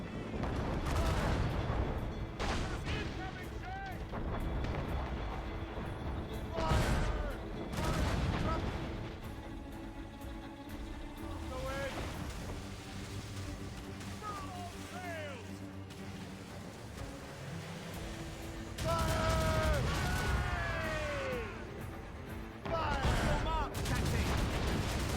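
Naval cannon fire in Assassin's Creed Rogue during a sea battle against a man-of-war, with repeated heavy booming volleys and crackling salvos over a continuous rumble of wind and water, while voices speak and shout between the shots.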